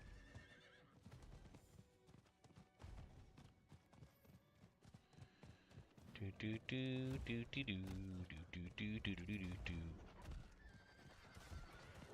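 A horse in Diablo IV whinnies loudly with a long, shaky neigh, alongside clip-clop hooves and faint background noise.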